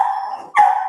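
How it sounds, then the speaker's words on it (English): A dog barks once, close and clear, with a brief whine or yip around it. "Oh, my dog, sorry."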